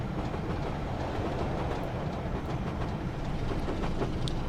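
Steady rolling rumble of a BR Class 25 diesel train on jointed track, with rhythmic clicking from the rail joints running close and loud for the whole stretch, no talking.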